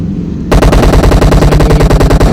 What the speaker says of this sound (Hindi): लेफ्ट से बॉट का फायर आया, बॉट मैंने निपटाया